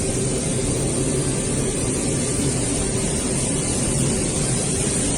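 Cabin noise inside a Russian military transport plane in flight carrying wounded servicemen, a steady, dense engine roar and rumble that holds constant throughout with no voices.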